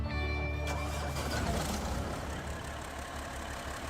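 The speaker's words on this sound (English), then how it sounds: "Ready for the best engine sound?" A truck engine in the video game SnowRunner cranks and starts, with a steady tonal whine giving way after about half a second to a loud, broadband engine roar that settles into a rumbling idle.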